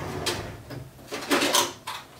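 A drawer slides open amid a few light rattles and knocks as something is fetched nearby, a handful of brief scraping bursts at close range with no talking.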